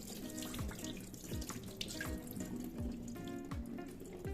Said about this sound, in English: Now you can see the water running almost clear